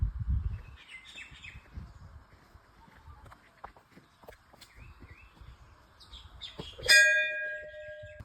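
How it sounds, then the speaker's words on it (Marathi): Birds chirp and twitter faintly at a misty hillside temple entrance near Pune, with low rustling and soft background voices; near the end a temple bell is struck once and rings out clearly. "पक्ष्यांचा किलबिलाट ऐकायला येतोय।"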